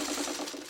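A sewing machine stitches a quilt block background, its fast steady whirring running continuously and fairly close for under a second, with no talk over it.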